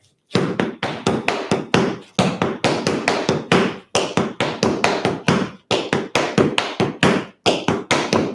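Tap shoes strike a hard floor in a tap class, with scuffs, heel drops and steps in crisp, loud, evenly rhythmic phrases that repeat with short pauses between groups.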